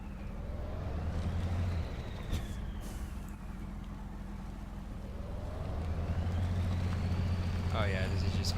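Game truck 4320 in MudRunner labors uphill with a steady low engine drone that swells and strains, rising toward the end, with a brief clunk partway through; a voice talks over it.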